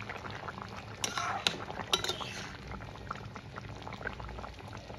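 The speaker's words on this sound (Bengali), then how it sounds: "সরষে বাটা দিয়ে আরেকটু কিছু সময় ফুটিয়ে নেব।" A Bengali fish curry with drumsticks and mustard paste bubbles as it simmers in a pot, with soft boiling and popping throughout and a few sharp clinks of a metal utensil against the pan.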